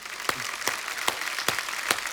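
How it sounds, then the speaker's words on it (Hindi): Studio audience applause on a comedy talk show for a film team, a dense wash of clapping with a few sharp, evenly spaced louder claps standing out above it. "एक बार बिग बुल की पूरी टीम के लिए जोरदार तालियां हो जाएं।"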